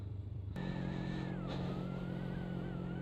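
Motorcycle cruising at around 50 km/h with a steady engine drone and wind, a slight rise in pitch about halfway through, recorded faint and close with no talk.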